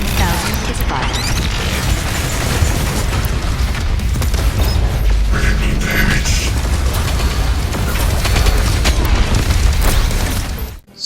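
The BFG 10000 fires in the video game Doom Eternal, a loud, sustained roaring blast with churning mechanical creaks and booming bursts that keeps up steadily before cutting off abruptly at the end.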